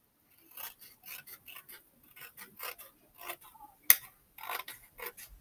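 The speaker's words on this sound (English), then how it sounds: "I might have to trim this down a little bit. Just a little bit with my scissors." Scissors trim a framed Christmas card, giving a quiet series of short, crisp snips in uneven bursts, with one sharper click partway through.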